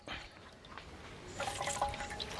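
Liquid squeezed by hand from grated plantain for Jamaican plantain porridge, cooked outdoors, trickles and drips in a soft, close, uneven stream that grows a little wetter toward the end.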